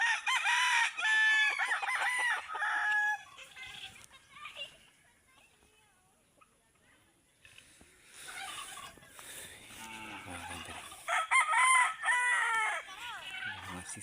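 Labuyo junglefowl hen with chicks in a rural pen: loud rooster crowing and clucking bursts at the start and again near the end, separated by a quieter stretch, with a person talking in between.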